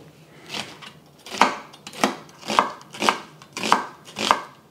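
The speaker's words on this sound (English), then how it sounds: "Also slicing up half an onion" A knife slices through half an onion on a cutting board in about seven evenly spaced strokes, each a crisp, close thunk against the board.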